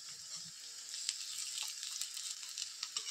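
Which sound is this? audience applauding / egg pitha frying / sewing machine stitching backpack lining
egg pitha frying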